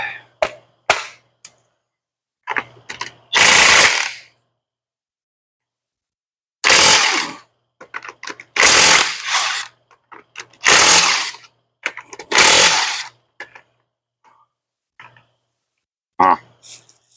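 A power tool spins the lug nuts off a Chevy car wheel in loud, close, rattling bursts, each lasting about a second, separated by quiet gaps and a few light clicks.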